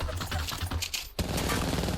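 Rapid gunfire bursts rattle in the video game Apex Legends, a loud fusillade of close shots filling the whole short moment.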